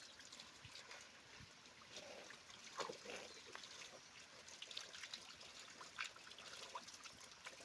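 Steady trickling cold water runs continuously from a village tap, a low splashing flow with small drips and splatters, fairly quiet and close.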